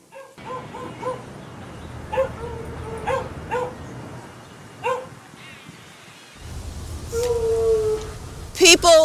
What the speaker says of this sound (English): How about the little dogs in the pet shop window scratching for attention?